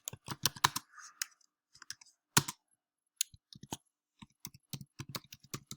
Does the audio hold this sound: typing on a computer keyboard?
yes